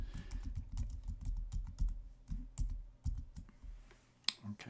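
Quick, uneven typing on a computer keyboard while renaming a folder, with a clear clicking key rhythm and a few louder keystrokes near the end, heard close and alone.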